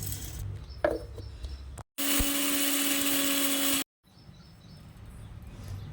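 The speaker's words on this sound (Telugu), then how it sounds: "వేయించి పెట్టుకున్న జొన్న పేలాన్ని మిక్సీ పట్టుకోవాలి" A mixer grinder grinds roasted jowar puffs in one loud, steady whirring burst of about two seconds, with quieter kitchen rustling before and after.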